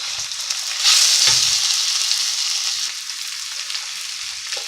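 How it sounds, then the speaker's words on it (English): Beef stir-frying in a hot wok gives a loud, bright, continuous sizzle, swelling after a second and holding steady, with faint stirring knocks and no talking. "After separating it like that, just keep stirring it. The wok is nice and warm, so it's not going to stick to the bottom."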